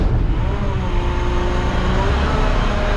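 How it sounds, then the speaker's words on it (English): A front loader garbage truck's engine revs while the driver sits in the cab, a loud, close, sustained low rumble with a droning tone that holds steady for a few seconds. "Revving it."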